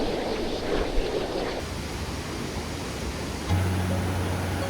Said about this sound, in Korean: 힘차게 떨어지는 폭포는 거센 소리를 내며